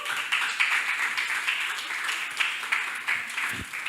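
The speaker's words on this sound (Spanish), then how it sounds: "Aleluya, un aplauso al Señor" Applause from a church congregation during a Christian sermon, a steady wash of many hands clapping at moderate distance and fairly soft throughout, with a brief low thump near the end.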